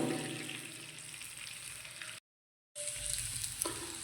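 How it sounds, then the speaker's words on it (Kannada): Leafy greens fry in ghee with a soft, even sizzle, cut off by a half-second gap of silence before the frying resumes, followed by a few light utensil knocks; fairly quiet and close. "ತುಪ್ಪದೊಳಗಡೆ ಇನ್ನು ನಾ ತೋರಿಸಿದ್ನಲ್ಲ ಈ ಸೊಪ್ಪು ಇಲ್ಲಿ ನೋಡ್ಕೊಳ್ಳಿ ಇದನ್ನು ಹಾಕಬೇಕು ಹಾಕಿ ಚೆನ್ನಾಗಿ ಫ್ರೈ ಮಾಡಬೇಕು"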